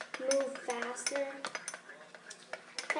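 A spoon clinks and scrapes against a bowl while gummy candy mixture with green food coloring is mixed, a steady run of close metallic taps and stirring with faint background voices.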